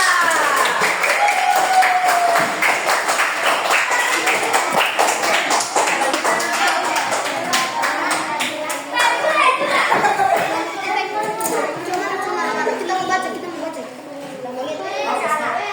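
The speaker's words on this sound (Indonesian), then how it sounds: "beri tepukan yang meriah" Classroom of children applauding a group of students at the teacher's call, a dense steady patter of small hands clapping throughout, with children's voices chattering over it.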